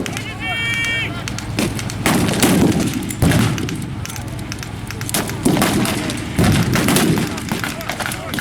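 Machine gun and rifle fire in a battle reenactment at the War & Peace show, repeated loud bursts and bangs in uneven rhythm, with a commentator talking over the action.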